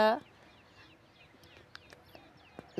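Sparse bird chirps and short calls ring out over a quiet morning farm field, with a louder harmonic call at the very start.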